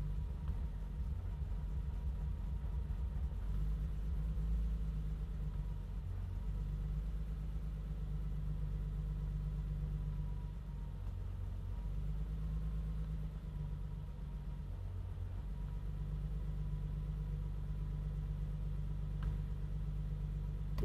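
A BMW E30 engine idles just after its first start, a steady low rumble with slight unevenness in the idle, fairly quiet and continuous with no voices over it.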